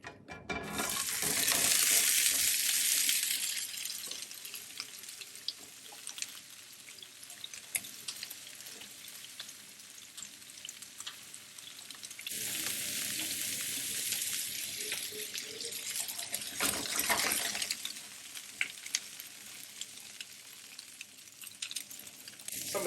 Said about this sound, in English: once the pan's really nice and hot, I'm just going to throw in the potatoes